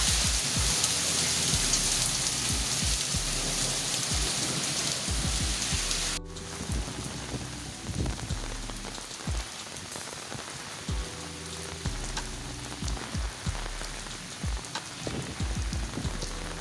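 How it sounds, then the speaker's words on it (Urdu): Heavy storm rain pours steadily over Dadyal, Azad Kashmir, a dense continuous roar with scattered drop impacts, loud and close throughout, slightly quieter after an abrupt cut partway through. "شدید قسم کی بارش"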